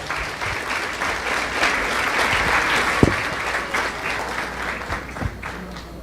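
Applause from the audience at a 2025 Canaan S.D.A. High School commencement for a graduate taking the podium, a dense, sustained crowd clapping with a few louder nearby claps and a faint murmur.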